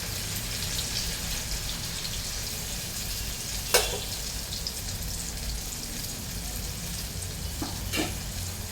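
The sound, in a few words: deep frying alu vadi (colocasia leaf rolls) in hot oil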